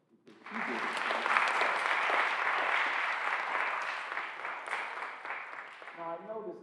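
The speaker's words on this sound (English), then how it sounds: "give a round of applause to the public" Audience applause for the public at a high school Law Day event, a steady sustained round of clapping from a crowd that fades slightly toward the end, with a voice starting to speak as it dies down.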